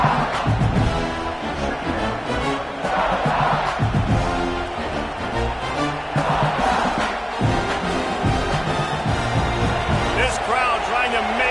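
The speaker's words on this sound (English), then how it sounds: "This crowd trying to make life miserable for this offense." Stadium crowd roars steadily throughout a college football video game, a dense continuous swell of cheering and chanting under constant play-by-play commentary.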